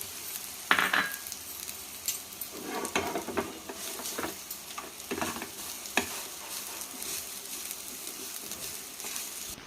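Fresh grated coconut fries in a pan with a soft, continuous sizzle, while a spoon stirs and scrapes against the metal in irregular bursts. No one speaks.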